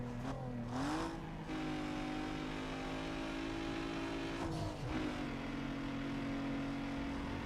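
A race car engine in Need for Speed: Underground 2 on PS2 holds a steady loud drone, climbing in pitch as it revs through two gear shifts, with brief whooshes as it passes other cars.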